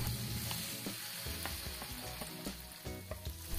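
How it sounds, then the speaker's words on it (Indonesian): Spice paste sautés in hot cooking oil for a Makassar-style fish dish, a loud close crackling sizzle with occasional scraping stirs, continuous throughout and with no talking. "Lalu bumbunya kita tumis."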